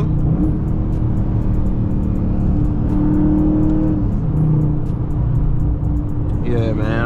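Cars moving in road traffic, heard from inside a vehicle: a loud, steady engine and road rumble with whirring tire noise, voices talking over it.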